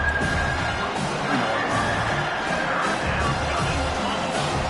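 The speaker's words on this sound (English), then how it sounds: "Decibels rising as the crowd gets behind this defense on third down." A stadium crowd at a football game cheers and roars steadily throughout, dense and continuous, rising in support of the defense on third down.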